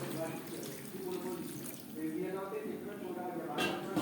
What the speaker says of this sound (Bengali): মশলার সাথে আলু ও ফুলকপি বেশ ভালো করে কষিয়ে নেওয়া হয়ে গেছে এই পর্যায়ে দিয়ে দেবো জল